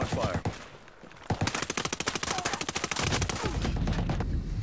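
Rapid automatic gunfire in Ghost Recon Breakpoint rattles in tight bursts, starting with scattered shots and building into a long sustained volley, loud and close, with a brief pause before more firing.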